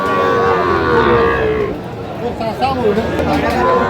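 Sahiwal cattle low with drawn-out moos at a busy cattle market, mixed in with people talking and the hubbub of the crowd nearby.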